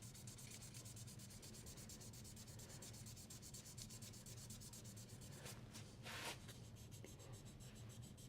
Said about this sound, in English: I'm going to sand with the grain to make sure that I get rid of any of the radial scratches in there.